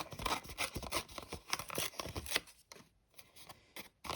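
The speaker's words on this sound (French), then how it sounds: "On va déchirer." Paper is torn by hand for a collage background in a series of quick rough rips and crinkles. The sound is close and fairly quiet, with short pauses between bursts and no talking.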